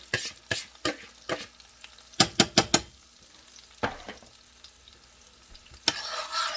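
A spoon scrapes through a rice mixture in a pan for butternut squash risotto, making a series of distinct stirring strokes in quick clusters over a faint, low sizzle.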